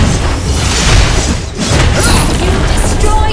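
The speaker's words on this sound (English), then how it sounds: "You destroyed a turret!" A turret is destroyed in a mobile battle arena game with a Martis build: a loud booming burst amid the heavy crashing noise of combat, dipping briefly before the din returns at full strength.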